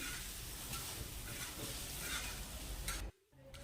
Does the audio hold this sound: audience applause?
no